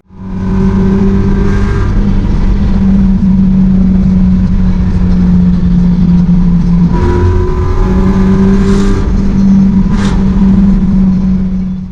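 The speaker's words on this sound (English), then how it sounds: "this fully custom 1965 Mustang GT 350" A custom 1965 Mustang GT350 engine revs and roars loudly up close, holding a deep growl with a couple of rising revs near the end.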